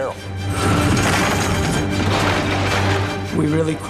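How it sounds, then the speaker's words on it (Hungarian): A car is smashed during a stunt for the film Fast & Furious 6: a loud, dense crashing and grinding noise runs nearly the whole four seconds. A low steady drone sits beneath it. "Tényleg összetörtük a kocsiját."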